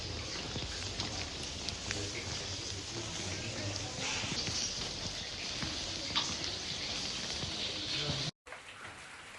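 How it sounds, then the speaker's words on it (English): Steady rain falls outdoors in Saint-Jean-Pied-de-Port on the Camino Francés in Spain, a continuous broadband patter with scattered louder drops throughout, fairly close and moderately loud, briefly cut by a gap near the end. "Still raining."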